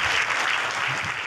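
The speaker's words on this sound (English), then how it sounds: "Clap, clap for Jesus Christ." A church congregation at a healing service claps for Jesus, a brief stretch of dense, loud, continuous applause.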